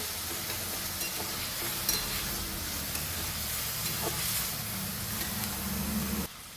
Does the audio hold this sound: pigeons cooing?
no